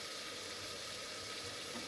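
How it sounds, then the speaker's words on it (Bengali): Chicken sautés with butter in a pan, giving a continuous bright, hissing sizzle. It is steady and fairly close, with no talk over it. "চিকেনটা ভালো করে কষিয়ে নিতে হবে। বাটারটা দিলে চিকেনের সঙ্গে কষলে খুব ভালো লাগে"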